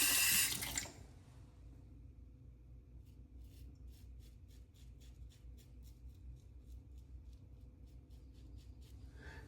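Water runs from a tap into a sink during a wet shave, starting as a loud gush that cuts off within a second, followed by quiet drips and faint trickles.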